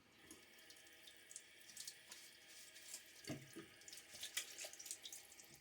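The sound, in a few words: water from sink splashed on face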